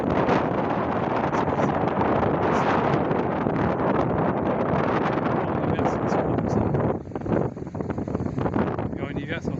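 Strong seaside wind at Carnon beach, Hérault, buffeting the microphone in a loud continuous rushing roar that eases briefly near the end, with a person talking over it.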